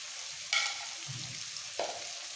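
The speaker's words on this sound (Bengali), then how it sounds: "আলুগুলো তেলের মধ্যে একটু ভেজে এর মধ্যে দিয়ে দেবো" Potato pieces frying in oil in a pan give a steady soft sizzle throughout, with two brief louder stirring scrapes, heard close and alone without any talking.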